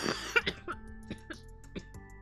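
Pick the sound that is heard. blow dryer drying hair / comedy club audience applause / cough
cough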